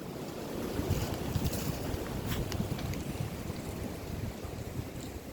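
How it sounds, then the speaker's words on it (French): Wind buffets the microphone outdoors in a steady, loud, low rumble for the whole stretch, where a tree is being cut up with a Scheppach IXES 20V cordless chainsaw; no clear voice cuts through. "désolé si on m'entend très mal, c'est parce que là, il y a du vent"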